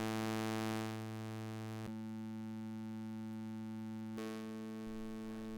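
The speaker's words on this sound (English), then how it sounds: "You can hear the signals of the 2 channels." Steady two-channel audio signals from a homemade Raspberry Pi Pico oscilloscope drawing artwork, heard as a sustained harmonic electronic drone that shifts timbre abruptly twice, constant and fairly quiet, with no talking.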